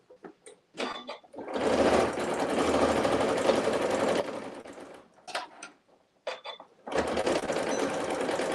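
Sewing machine stitching binding onto a T-shirt quilt, running in a long steady burst, then stopping briefly for short stop-start bursts before running steadily again, loud and close with no talk.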